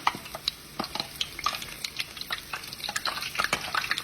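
Apple fritters fry in plenty of hot oil, crackling and bubbling up close, with irregular clacks and scrapes as a utensil flips them and pieces shift in the pan.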